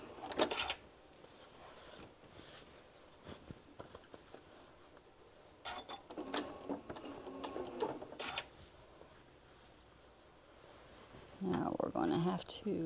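A sewing machine stitches across a large bean bag, running in several short bursts of rapid mechanical chatter separated by pauses, with a louder burst near the end; a voice speaks between the runs.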